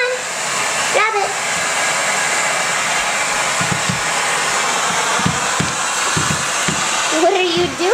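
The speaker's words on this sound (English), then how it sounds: "Hockley, come grab the vacuum." Household vacuum cleaner running with a continuous broadband whine and hiss, while a baby babbles and squeals over it and thumps sound intermittently.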